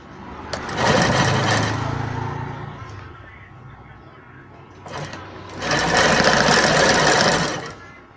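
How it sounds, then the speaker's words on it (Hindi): An electric sewing machine stitches an invisible zip into a blouse, running in two loud, steady bursts of whirring with a quieter pause between them, under light talk. "ये देखिए यहाँ लास्ट में सिलाई लगा देनी है दोस्तों।"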